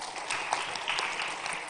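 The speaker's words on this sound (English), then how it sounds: "Can we give a huge round of applause, please?" Audience clapping at a tech talent event on stage, a brief, moderately loud burst of hands with a few sharper claps standing out.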